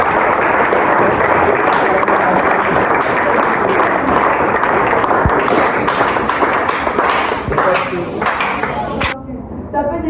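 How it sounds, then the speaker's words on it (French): Seminar audience applauding: dense, loud, sustained clapping from a large crowd, steady throughout, thinning slightly and tapering off near the end. "Est-ce qu'on peut acclamer?"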